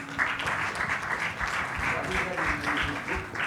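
Conference audience at the AI Conclave 2025 claps in a steady, moderate round of applause, somewhat distant in a large hall, with faint voices murmuring underneath.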